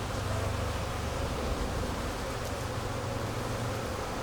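Honeybees in an open hive make a steady, dense, close buzzing drone that holds constant throughout with no pauses.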